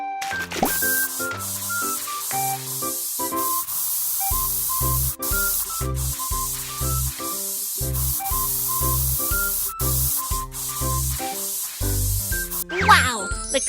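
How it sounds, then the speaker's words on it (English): Cartoon spray paint hissing onto a steel plate on a toy car in a kids' auto repair game, a steady spray sound laid under bright, bouncy background music with a brief flourish near the end. "Then spray the steel plate with paint."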